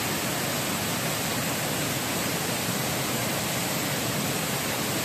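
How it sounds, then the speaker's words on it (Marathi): Water plunges with force down the Vaghalyacha Kada waterfall, making a dense, unbroken roar that stays loud and even throughout. "एवढा जोरदार म्हणजे वरतून फोर्सनी पाणी पडतो"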